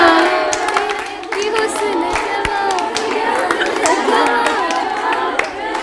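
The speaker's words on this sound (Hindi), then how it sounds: "तालियां बजाइए इनके लिए" An audience at a women's polytechnic anniversary quiz show claps along while voices sing, steady hand claps running the whole time beneath the singing and some crowd noise.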